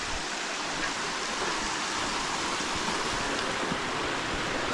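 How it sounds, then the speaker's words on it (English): A waterfall spills into a small swimming hole along an outdoor hike, making a steady, full rushing wash of water that stays close and constant throughout with no voices. "And then another little swimming hole with the waterfall."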